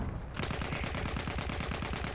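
Rapid automatic gunfire from a pistol in Battlefield 1 rattles in a fast, even burst after a brief quieter moment, loud and continuous to the end.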